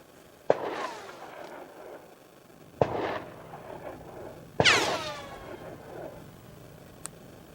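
Three sharp gunshots from a rifle or pistol fired by people nearby, each a loud crack followed by a rolling echo, spaced a couple of seconds apart, with a fainter pop near the end.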